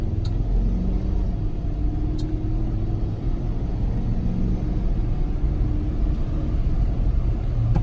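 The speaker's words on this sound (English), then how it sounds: "We'll come to a dead stop. First gear. About halfway on the throttle." A car pulls away from a dead stop and accelerates up through the gears at about half throttle, its engine a loud, steady rumble that holds strongly throughout with no talk over it.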